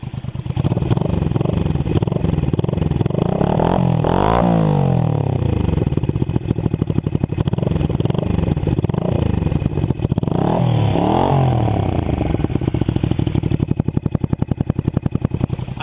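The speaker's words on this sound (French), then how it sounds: "je pense que tu vas nous faire des petites accélérations, histoire d'écouter ça" A Honda Shadow 125 motorcycle fitted with aftermarket exhausts revs loudly and close, with a continuous engine drone rising in a couple of sharp throttle blips before settling back toward idle.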